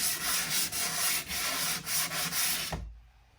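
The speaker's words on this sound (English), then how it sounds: "just do a very fine sanding just to smooth everything out," Steady, rhythmic rubbing of a sanding block over a flat drywall patch, close and fairly quiet, with short back-and-forth strokes before it stops.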